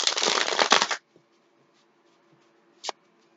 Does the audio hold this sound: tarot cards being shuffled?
yes